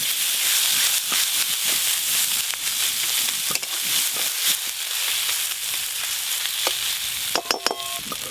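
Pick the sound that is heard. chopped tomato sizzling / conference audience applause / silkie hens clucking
chopped tomato sizzling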